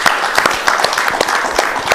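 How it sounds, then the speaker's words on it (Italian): A small group claps at a cycling event gathering, scattered individual claps rising and falling in an uneven patter over roughly two seconds, fairly close and moderately loud. "Fatemi un applauso, ragazzi."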